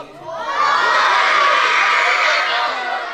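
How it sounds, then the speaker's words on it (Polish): A crowd of children at the MLKS Polonia Środa Śląska club's Saint Nicholas Day party shouts together in one loud, sustained collective yell lasting a few seconds. "A teraz wszyscy, wszyscy razem powiedzą mi, co to jest za klub"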